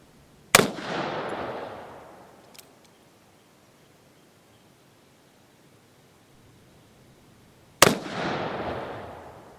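Two sharp, loud Colt 1860 Army revolver shots fired outdoors several seconds apart, each a crack followed by a long rolling echo that fades out.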